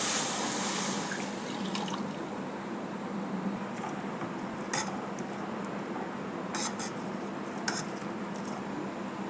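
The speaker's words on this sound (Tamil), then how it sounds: "இப்போ புளி தண்ணி சேர்த்துக்கலாம்." Tamarind water poured into a fish curry base of fried home-ground chilli and coriander powder, giving a steady liquid trickle and splash from the start with a few clinks of a utensil against the pan.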